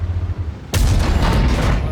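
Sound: artillery tank gun shot in a tank video game

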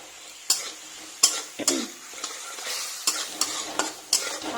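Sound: frying and stirring spice paste for pointed gourd curry

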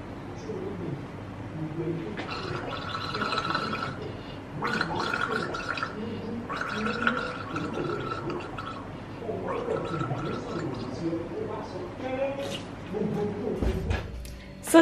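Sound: person gargling

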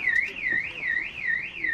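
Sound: car alarm going off on a Peugeot motorhome

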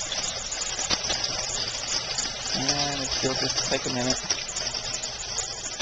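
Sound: water pouring into aquaponic fish tank

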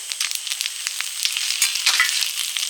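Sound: dried red chilies and whole cumin sizzling in oil, tempering dal

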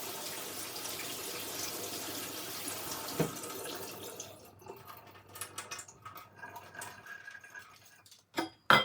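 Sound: washing something under running tap water

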